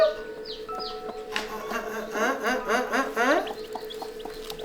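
Newly hatched chicks give high, thin peeps beside their brooding mother hen, close by and repeated, while a voice talks over part of it.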